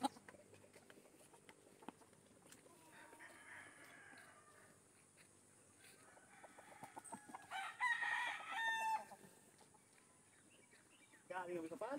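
Chickens, cockerels and young pullets at a farm chicken coop cluck and a rooster crows, moderately faint, over low rustling background noise.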